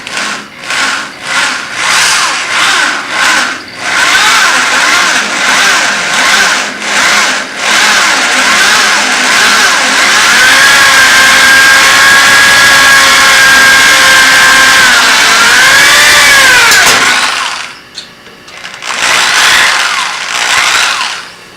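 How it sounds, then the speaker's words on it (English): A power drill whines loud and steady for a long stretch, boring a 3/32-inch hole through a metal bushing near a weld, its pitch sagging and recovering under load, then cuts off briefly before spinning again. "Now we'll go ahead and drill our 3/32 lubrication hole through our bushing."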